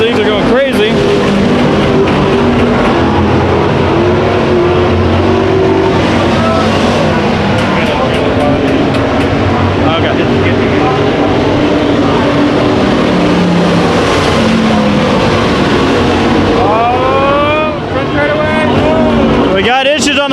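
Race cars roar around Ocean Speedway during a heat race, a loud, dense engine drone from several cars with passing surges, heard under continuous commentary.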